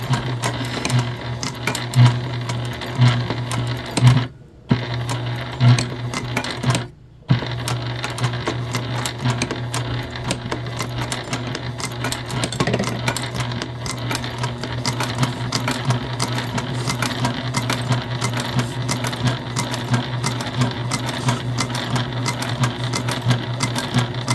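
A sewing machine stitches the side pocket of a convertible bag, running as a steady, loud mechanical hum that stops twice briefly near the start and then continues without a break.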